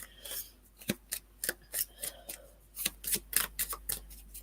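Close, crisp riffling and slapping of reading cards being shuffled, a rapid irregular series of sharp bursts with short pauses between.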